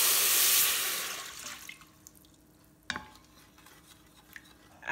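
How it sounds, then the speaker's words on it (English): A pan being deglazed with vinegar while a spoon scrapes up brown bits for pork adobo: a loud hissing burst at first that fades into quieter scraping, with a sharp knock near the middle, close up and without talk. "now we're going to deglaze the pan, scrape up those brown bits that are on the bottom"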